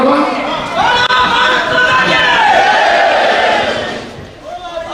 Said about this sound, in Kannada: ಎರಡು ಕೈಯನ್ನು ಮೇಲೆ ಎತ್ತಿ ಜೈಕಾರ ಹಾಕಬೇಕು